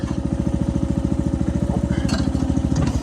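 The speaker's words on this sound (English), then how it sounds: "I'll just show you idle here" A Red Runner wood processor engine idles close by, running without a log, with a steady rapid low chugging and clatter that holds even and loud from start to finish.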